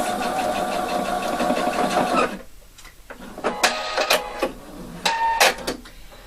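A sewing machine stitches bias band onto a ribbon, its motor running in a steady whirring burst, then stopping and restarting in short spurts.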